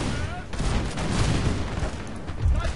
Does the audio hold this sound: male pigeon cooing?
no